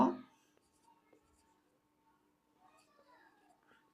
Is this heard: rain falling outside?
no